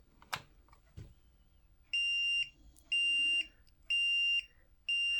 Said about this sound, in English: when we unlock the pendulums, you're going to see a blinking light and hear a beeping noise